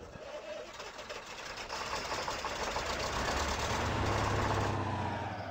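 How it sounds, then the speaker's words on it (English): A truck engine in the Spintires off-road logging game, rigged with a medium log trailer, turns over and settles into a steady, loud diesel-like idle with a knocking rumble that builds slightly and holds on its own. "Let's start the engine."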